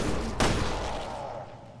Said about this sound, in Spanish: Dos tiros y palo.